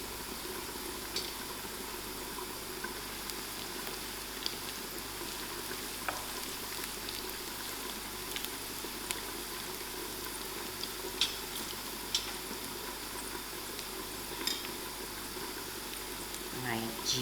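Dry chilies frying in oil with golden brown onions, a steady close sizzle and crackle with faint scattered pops running throughout.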